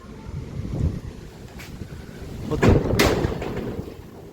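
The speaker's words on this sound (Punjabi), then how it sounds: "ਬਹੁਤ ਤੇਜ਼ ਹਵਾ ਬਹੁਤ ਜ਼ਿਆਦਾ ਤੇਜ਼ ਹਵਾ ਪੰਜਾਬ ਦੇ ਵਿੱਚ" Gusty storm wind in Punjab roars and buffets the microphone, swelling and easing in rough waves with a louder surge near the end; no one speaks.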